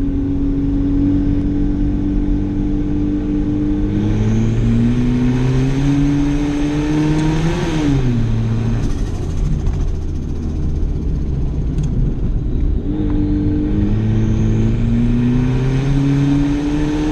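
A cheap $500 turbocharged car runs a hill climb, engine revving hard and climbing in pitch through several gear shifts, with brief lifts off the throttle between pulls; loud, close and continuous for the whole stretch.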